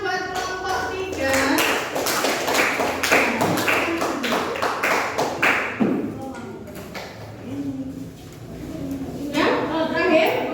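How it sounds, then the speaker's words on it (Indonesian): A classroom group of students claps for a presenting group, a burst of several hands clapping nearby in a quick, uneven rhythm, with people talking over and after it. "tepuk tangan buat kelompok 3"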